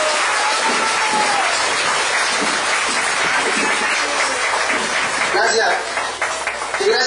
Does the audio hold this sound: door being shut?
no